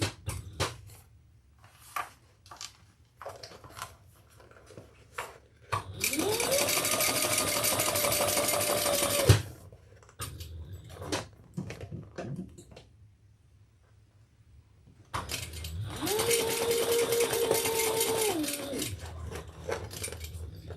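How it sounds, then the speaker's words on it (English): A sewing machine top stitching the tunnel of a Julie tote bag runs in two sustained bursts of several seconds each, close and steady, with quiet handling clicks and fabric shuffling between them. "I'm top stitching in the tunnel here."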